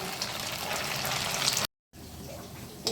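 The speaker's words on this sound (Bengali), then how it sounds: "এবার একটা কড়াইতে তেল নিয়ে নিয়েছি, তেলটা গরম করে নিয়েছি। এবার একটা একটা করে ভেজে নেব সব।" Soya chunk dumplings frying in hot oil in a wok: a dense, bubbling sizzle close by, broken by a brief silent gap before a quieter frying hiss resumes.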